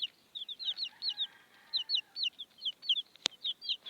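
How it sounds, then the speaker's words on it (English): Small chickens give rapid, high chirping peeps in quick bursts, close and fairly quiet, with a single sharp click partway through. "So I'm spending 6 minutes with the chickens if I can."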